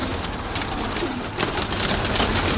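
Pigeons in Kozani, Greece, cooing amid a flock, with a dense flutter of wings and outdoor noise throughout and bursts of flapping as birds take off.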